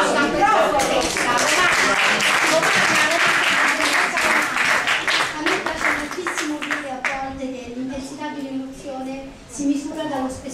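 An audience at an Italian awards ceremony in New York applauds a poet, loud sustained clapping that gives way to a voice speaking over the fading applause.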